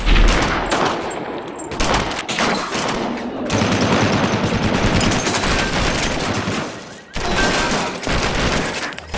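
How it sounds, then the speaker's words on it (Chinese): Sustained blank-round gunfire from a staged film shootout shot as one long take, dense bursts of rapid shots and volleys, loud and close, with brief lulls before firing resumes. "为了营造真实气氛，杜琪峰要求演员排练时也得用空弹头射击，结果打出去将近3000发子弹"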